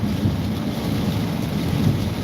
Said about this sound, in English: It is bad out here. It is raining.